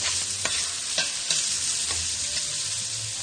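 Onions frying in a pan sizzle steadily, with a spoon scraping or tapping the pan about every half second; no one speaks.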